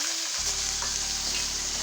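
Yogurt and fried onion paste for chicken korma frying in a pan, a steady loud sizzle that starts abruptly and holds as continuous crackling hiss.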